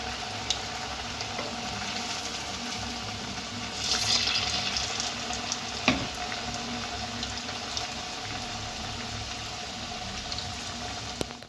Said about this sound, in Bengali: এটা আমি একদম লো টু মিডিয়ামে ভাজছি